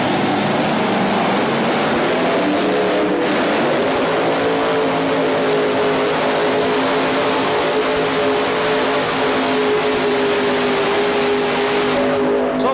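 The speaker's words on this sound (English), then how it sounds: "Brand new tractor." A tractor's engine roars loud and unbroken at a 1987 TNT tractor pull in Birmingham, its steady harmonic drone shifting slightly in pitch as it works, with no talk over it.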